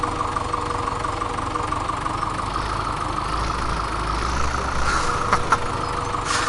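A tractor engine idles in the Farming Simulator 17 video game, a steady low rumble with a constant mid hum and a few brief clanks near the end, no voices.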